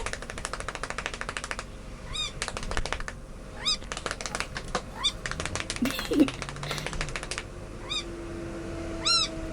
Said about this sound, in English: The meow.